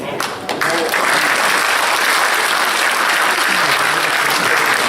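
Sustained applause from a ceremony audience greeting newly dubbed knights of a champagne brotherhood, steady and dense throughout after a brief start.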